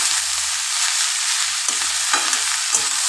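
Bottle gourd and pumpkin with salt and turmeric being stirred in a pan. A loud, steady hiss of frying runs throughout, broken by a few scraping strokes of a spoon against the pan, with no speech.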